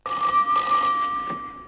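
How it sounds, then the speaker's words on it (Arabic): A telephone bell rings steadily and loudly, a continuous electronic trill close by with no talk over it, in an Egyptian film scene. "التليفون يا كامل."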